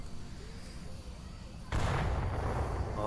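A sudden grenade blast in the Onward VR shooter erupts midway, a loud broadband boom following a quieter stretch of low ambient game noise and rumble.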